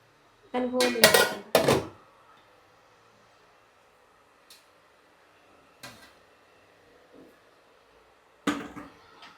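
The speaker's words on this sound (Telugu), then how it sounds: "దీని మీద మనం మూత పెట్టేసుకొని" A lid is set onto a cooking pot on a stove, with a quick cluster of clanging metal knocks followed by a few faint scattered clinks and one more sharp clatter near the end, in a quiet kitchen.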